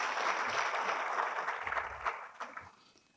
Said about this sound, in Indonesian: Bapak Dr. Dr. Andes Muhammad Musaat MSI, mari kita berikan aplaus untuk Bapak Gubernur.